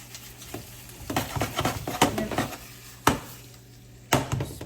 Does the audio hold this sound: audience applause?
no